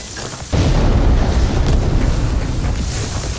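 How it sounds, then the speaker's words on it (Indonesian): A loud, sudden RPG blast erupts after a brief quiet moment, followed by a sustained roaring rumble that stays heavy and dense until the end. "Ledakan terjadi."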